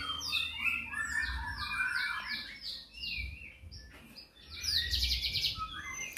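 A seven-day-old Poksay Hongkong (Hwamei) chick calls close by in rapid bursts of sharp, shrill chirps. A brief pause falls between the busy runs of squawky cheeping.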